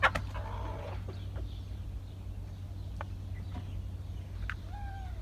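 Chickens cluck softly near a nesting goose over a steady low hum. Scattered short clucks and one drawn-out call come at close range.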